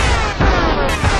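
A burst of loud, booming video game gunfire bursts over a dense, noisy background, with sharp cracks, close and intense.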